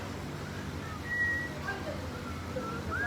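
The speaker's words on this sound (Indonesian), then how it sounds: "Pakai siul ya?" Faint whistling of a melody, a few thin wavering notes heard over a low room hum and background murmur.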